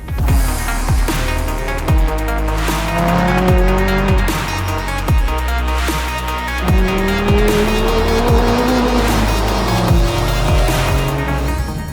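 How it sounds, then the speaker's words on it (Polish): A McLaren 570GT's powerful engine revs up and down through gear changes as tires squeal repeatedly, loud and close throughout. "jedziemy McLarenem na pierwszą przejażdżkę"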